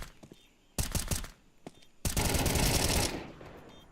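Rifle fire in a Counter-Strike match: a quick burst of sharp, close automatic shots, a short pause, then a longer sustained burst, loud and punchy with little else around it.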